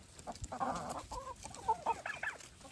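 Several farmyard turkeys on a one-acre homestead give short, bubbly gobbling calls in bursts, fairly close, with some clucking among them over a quiet outdoor background.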